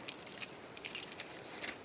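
Truck keys clipped to a belt-loop tether alongside a small Swiss Army knife and ferro rod, jingling in light, irregular metallic bursts close by, quiet and alone, during a snowshoe outing while making a fire.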